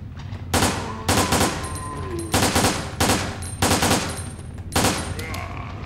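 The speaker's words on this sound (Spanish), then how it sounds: "tiro la ametralladora un poquito, gasto las balillas que quedan" Machine gun fire in the PS2 shooter Resident Evil Dead Aim, six loud rapid-fire bursts in a steady rhythm, each lasting about half a second, with no talking over it.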